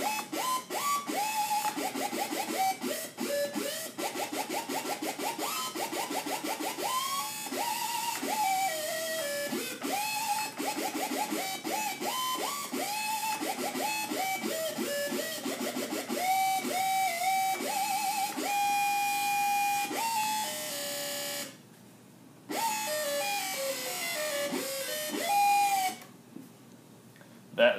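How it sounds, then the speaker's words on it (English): A synth lead, a heavily distorted digital waveform layered with a square wave and cross-modulation, plays choppy, glitchy pitched stabs and bends in a loud, busy stream, broken by two brief gaps near the end. "the digital waveform is like a really distorted sawtooth sine combo hybrid with a lot of cross mod on it"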